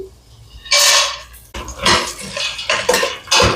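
Peanuts frying in oil in a pan for a puffed-rice mixture, bursts of hissing sizzle and rattling as the nuts are stirred, close and fairly loud.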